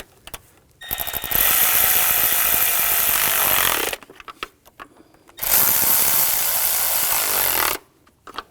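Power tool or ratchet snugging down intake manifold bolts on a 2007-2013 BMW X5 3.0L inline-six during a starter replacement: two sustained loud bursts of whirring mechanical noise, each around three seconds, separated by a brief pause, with no talking.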